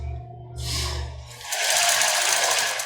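A sewing machine stitches along the top edge of a bra's elastic, running in short close bursts with a low mechanical hum at first, then a steadier, louder whirr of rapid stitching.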